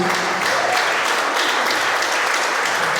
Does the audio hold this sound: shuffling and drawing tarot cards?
no